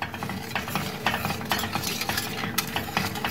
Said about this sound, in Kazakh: үздіксіз араластырамыз.